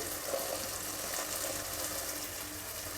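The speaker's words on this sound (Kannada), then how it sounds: "ಈಗ ತರಕಾರಿಗಳನ್ನು ಸೇರಿಸ್ತಾ ಇದ್ದೀನಿ ಹುರುಳಿಕಾಯಿ" Beans and other vegetables sizzle as they go into a pan of hot oil for vegetable biryani, a steady close frying hiss running unbroken with no talk.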